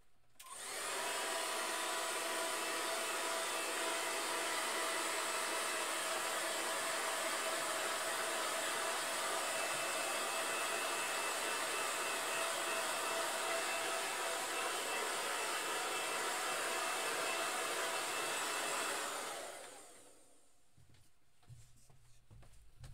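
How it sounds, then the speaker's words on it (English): A hair dryer blows steadily over a watercolour painting of koi, a loud continuous broadband whoosh lasting about nineteen seconds before cutting off, leaving faint room noise. "What I'm going to do now is give it a quick hair dry"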